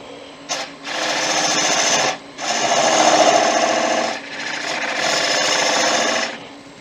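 A woodturning tool cuts away the leftover tenon on an end grain bowl spinning on a lathe. It makes loud, close, rough scraping passes in three long bursts with short pauses between them.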